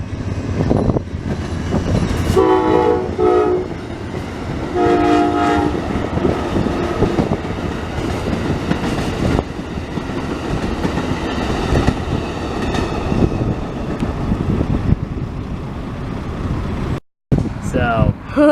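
An Amtrak Silver Star passenger train passes a Florida rail line, with loud blasts of its horn early on over the continuous roar and rattle of the cars rolling by close to the listener.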